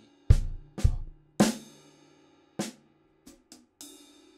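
Drum kit groove with a quick 32nd-note fill played left foot and left hand, heard as sparse, sharp separate hits ringing in a quiet room, some strong and some lighter.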